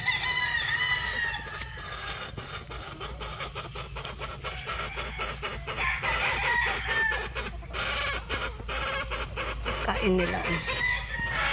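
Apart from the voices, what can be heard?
stag gamecocks crowing and clucking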